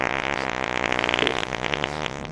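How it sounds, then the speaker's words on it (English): A long, loud, sustained fart sound effect with a buzzing, rippling quality, heard alone with no talking. "releases her one final fart that she had been holding in all that time"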